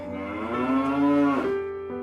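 A cow lets out a single long, loud moo that rises and then slides down in pitch before a short trailing groan, heard close and alone with no talking.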